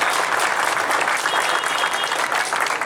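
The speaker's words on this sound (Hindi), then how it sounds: "ताली कम बजिए" A crowd at a BJP workers' conference rally in Nagda breaks into dense, loud applause that fills the hall steadily without a pause.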